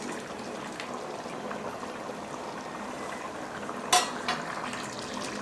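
A ladle slowly stirs coconut milk rice in a pot. Soft scraping and bubbling run quietly throughout, broken by one sharp metal clank near the end and a smaller knock just after.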